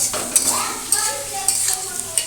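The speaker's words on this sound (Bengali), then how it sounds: "পেঁয়াজ কুচিটা দিয়ে দিলাম" Chopped onion fries in hot oil in a pan while a spoon stirs and scrapes in quick repeated strokes over a soft sizzle, with faint voice-like tones in the background.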